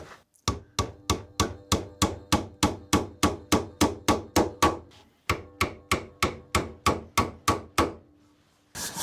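Nails hammered into a wooden saw horse, a steady run of about twenty sharp, close wooden knocks at an even rhythm, with a short pause partway through.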